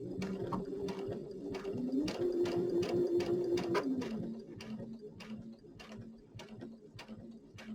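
A sewing machine stitches quilt blocks together, its motor running in a steady, close whirring burst that speeds up, then slows to a lighter hum, with sharp clicks scattered throughout; no one speaks.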